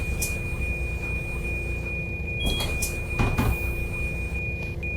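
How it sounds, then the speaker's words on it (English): Pneumatic doors on a Volvo bus in a driving video game slide open and shut with several hissing, thudding bursts over a steady engine rumble and a continuous high electronic tone. "if you want the doors to open and close after you press the button"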